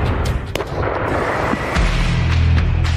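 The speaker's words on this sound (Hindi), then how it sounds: "ये ज़ेलेंस्की के धमाके बनाम पुतिन के धमाके का नया मुकाबला है" Missile strikes and explosions in the Ukraine war, a series of sharp, loud blasts and booms rolling into a heavy low rumble, with no talking.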